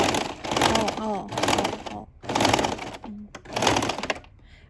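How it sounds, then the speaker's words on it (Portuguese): Sewing machine stitching a dress seam, running in four short bursts with brief pauses between, fairly close and loud, while someone talks over it. "Aí pode ir bem devagarzinho com a máquina, pra ela vir fazendo este movimento."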